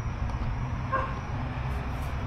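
A dog barks once, briefly and somewhat faintly, at an abandoned military bar, over a steady low background rumble with no talk.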